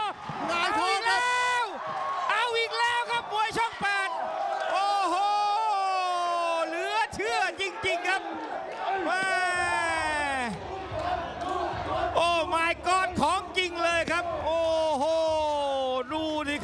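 Stadium crowd at a Muay Thai fight shouting and cheering loudly and continuously, with rising whoops and yells layered throughout, close and dense, sustained from start to finish.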